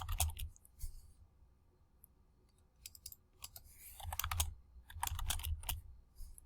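Quiet clicking of keys on a computer keyboard in short irregular bursts, with pauses between flurries of typing.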